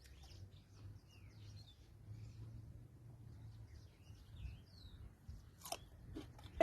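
Fresh cucumber, harvested large with big seeds, being bitten and chewed outdoors in a drought-grown garden; soft crunchy chewing runs through, with a couple of sharper bites near the end and faint birdsong in the background.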